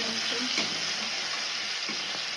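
Pabda fish in mustard curry sizzles and fries in a pan as turmeric is stirred in, a close, steady hiss broken by a few soft scrapes of the spoon.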